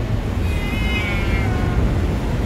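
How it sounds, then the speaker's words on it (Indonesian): A cat meows faintly under a loud steady engine rumble inside a moving long-distance bus, a thin drawn-out cry rising briefly in the middle before fading back into the hum. "Kucing ngeong-ngeong aja dia."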